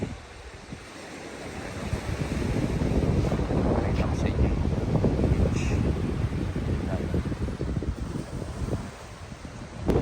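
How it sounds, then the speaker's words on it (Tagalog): Ocean waves wash steadily onto the beach at Alaminos, Pangasinan, near the Hundred Islands, with wind gusting across the microphone in a continuous, fairly loud roar. "nandito na kami sa beach, sa tabing dagat"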